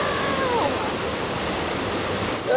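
Waterfall at a national park near Darwin, Australia: a loud, steady rush of falling water filling the whole clip, with faint tonal traces above it and no clear speech.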